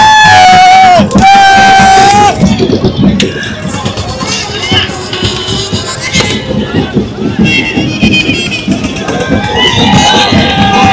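A dense festival crowd cheers and chatters around the arrival of the Bahiridev idol at Diwale Koliwada, with loud voices and yells blending into a continuous roar and a person talking nearby.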